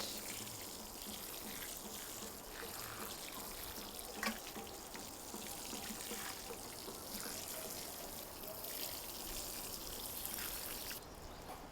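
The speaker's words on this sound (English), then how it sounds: "We can add more water as we confirm if our wooden box is well soaked" Water is poured into a wooden garden growing box, a faint, steady trickling wash that runs continuously without pause and without speech.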